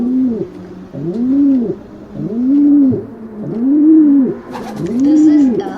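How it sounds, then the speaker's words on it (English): A pigeon coos in five slow, evenly spaced rolling phrases, close and loud, with a brief rustle or flutter near the end. "This is a pigeon. P for pigeon."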